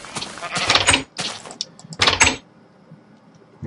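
Sheep on a Minecraft farm bleat in short bursts, two clustered calls, then a pause and another, fairly close and alone with no talk.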